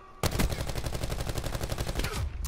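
Rapid automatic fire from the Koshka gun in a video game, one loud close burst of evenly spaced shots lasting about two seconds.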